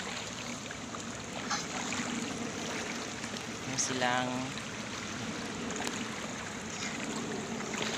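River water washes and trickles steadily around a boat during a crossing, a soft continuous flow with a brief voice and a short rising whistle-like sound midway.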